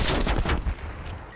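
Rapid gunfire in a first-person shooter game fight, a dense burst of close, loud shots for about half a second that quickly drops to a lower rumble.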